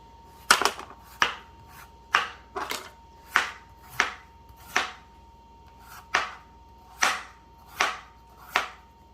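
A knife slicing food into pieces on a cutting board, about a dozen crisp, evenly spaced chops landing close and alone.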